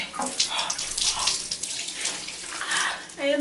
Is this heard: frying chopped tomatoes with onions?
no